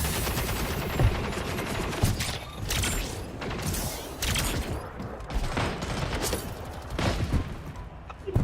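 Sniper rifle shots ring out in an online shooter game, with sharp reports recurring about once a second over dense, continuous battle noise and mechanical clatter.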